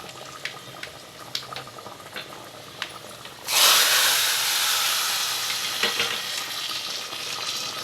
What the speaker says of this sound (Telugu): ఇప్పుడు మనం గుమ్మడికాయ పులుసులోకి వేసుకుందాం.